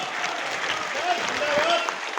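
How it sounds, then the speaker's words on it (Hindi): Audience applause fills a hall at a live kavi sammelan poetry recital, a steady dense clatter of clapping held at an even level throughout, with some voices mixed in. "इस हॉल में शायद तालियां उठे"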